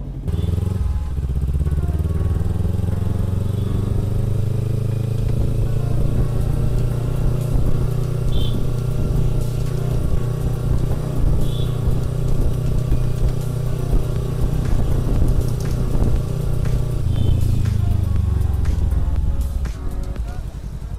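A Ninja motorcycle engine idles steadily up close, a loud, low, continuous throb holding for a long stretch before easing off at the end.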